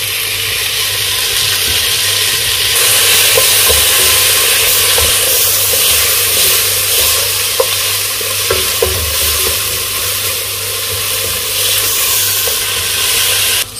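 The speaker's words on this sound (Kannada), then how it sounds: "ಸೋ ನೋಡಿ ಟೊಮೆಟೋ ಕೂಡ ಚೆನ್ನಾಗಿ ಫ್ರೈ ಆಗಿದೆ" Chopped tomato frying with onions in a pan for a dill leaf stir-fry, a loud, steady sizzle close up with occasional stirring clicks and no speech.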